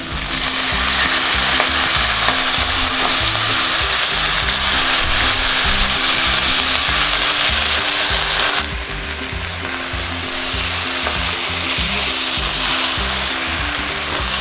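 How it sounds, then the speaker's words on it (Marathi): Fenugreek leaves tossed into hot oil with asafoetida, giving a loud, continuous frying sizzle and crackle that eases slightly partway through, with occasional stirring and no talk. "आता मी ही मेथी यामध्ये टाकते।"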